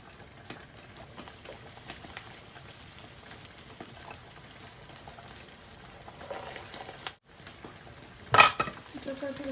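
Food fries for iftar in a pan, giving a steady, soft sizzle with occasional stirring clinks, broken by a brief pause and a louder clatter near the end.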